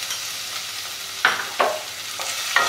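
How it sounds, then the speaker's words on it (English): Garlic fries in hot oil with a soft continuous sizzle, broken by several sharp scraping stirs of a utensil against the pan at uneven intervals. "Let the oil get heated for some time. I will add garlic."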